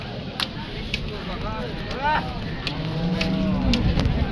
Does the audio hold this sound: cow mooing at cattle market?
yes